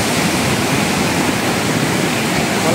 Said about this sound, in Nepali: खोला एकदमै बौलाको अवस्था छ